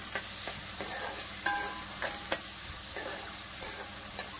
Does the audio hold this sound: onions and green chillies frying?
yes